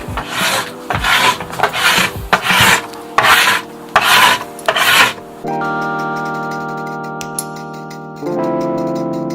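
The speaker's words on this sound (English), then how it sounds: "I have like a surfboard scraper thingy that I'm going to use to scrape off the wax" A scraper drags storage wax off a snowboard base in six loud, rhythmic rasping strokes, followed by a few seconds of sustained tonal music with no voices.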